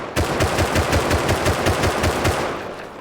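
Rapid automatic gunfire in the video game Rust rattles loud and steady at a tool cupboard, with no voices, and eases off slightly over the last half second.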